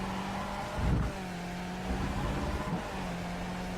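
Skip Barber race car engine in iRacing at Suzuka, a steady simulated drone with brief revving surges and shift-like dips, loud and alone with no talk.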